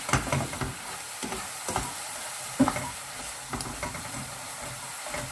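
Teriyaki chicken mixture stirred in a pan, a close scraping and sizzling with periodic louder strokes of the utensil against the metal roughly every second.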